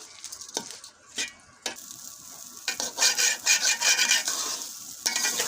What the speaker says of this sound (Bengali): চালটা ভালো করে আর কি ভেজে দিচ্ছি।